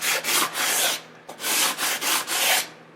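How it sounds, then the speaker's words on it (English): Sanding block rubbing along the binding of an acoustic guitar, several close rhythmic strokes of dry abrasive scratching on wood, each pass loud and distinct with short pauses between. "so I start with my sanding block."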